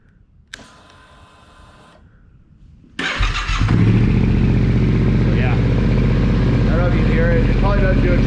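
A Yamaha Tenere T700 motorcycle engine cranks briefly, then catches with a loud burst and settles into a steady, rumbling idle close by, with faint mechanical whine on top.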